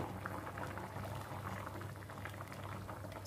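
A pot of mutton paya curry bubbles at a steady rolling boil, dense popping and gurgling continuing throughout at a moderate, close level.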